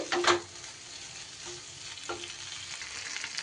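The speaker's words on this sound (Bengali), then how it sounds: "টমেটোটাও মশলার সাথে খুব ভালো করে কষিয়ে নিতে হবে" Spices and chopped tomato sauté in hot oil in a pan for chicken darbari, a steady close sizzle with a loud stirring scrape at the start and a few lighter stirs afterward.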